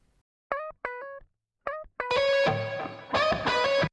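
A bright, twangy electric guitar plays a few short plucked notes, then rings out with louder sustained chords, clean and without effects.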